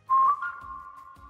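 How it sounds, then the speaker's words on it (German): A person whistles a short advertising jingle close to the microphone: a quick rising trill of notes followed by one long, steady held tone that slowly fades. "In Aufnahmen pfeifen ist immer eine dumme Idee."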